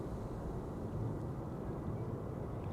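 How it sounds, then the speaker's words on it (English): A Delta Airlines Airbus A330neo at Schiphol Airport gives off a steady, broad low-frequency roar of jet engines, constant and moderately distant, with no voices over it. "A330neo in a hurry, going to Salt Lake City. Delta Airlines flight 57."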